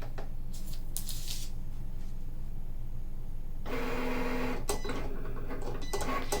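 A Cricut cutting machine working on foil tags, a steady mechanical whir and carriage movement with intermittent clicks and a louder buzzing motor passage partway through, close and continuous without talk.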